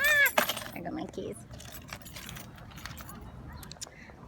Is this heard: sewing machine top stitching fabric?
no